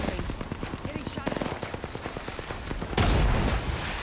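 Rapid automatic gunfire in Apex Legends: close, repeated bursts of shots in a fast rhythm, ending with a louder, denser volley.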